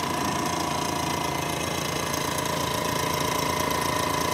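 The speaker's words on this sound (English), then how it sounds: "The blower itself is really nice and quiet." A paint booth blower runs as a steady, quiet, continuous hum and whoosh with a faint tonal whine, unchanging throughout with no talk.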